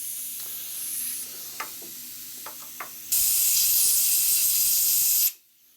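Compressed air blasts into a Harley Twin Cam engine on an FLH Road Glide during a camshaft install: a few short puffs, then a loud steady hiss for about two seconds that cuts off abruptly.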